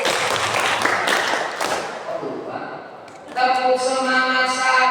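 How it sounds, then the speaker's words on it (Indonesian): Rhythmic group clapping from children at a dawn Islamic study session, loud and close, set to a clapping cheer routine with voices chanting along over a dense, lively crowd. "Baik, tepuk semangat satu."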